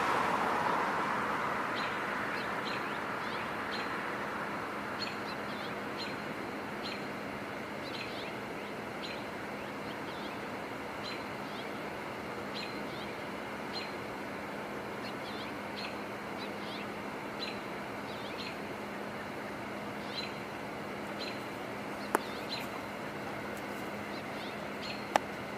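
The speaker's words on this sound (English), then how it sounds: "So I'm hearing two robins." Repeated short bird calls ring out at a steady pace over a constant broadband outdoor hiss, moderately distant, with no talking.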